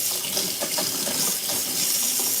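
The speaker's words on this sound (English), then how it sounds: "I gotta fill my water cup." Tap water runs steadily into a cup at a sink. The gushing stream is close and continuous with no talking over it.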